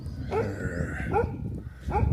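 Three sharp dog barks in Thailand, spaced about a second apart, fairly near over a busy outdoor background hum.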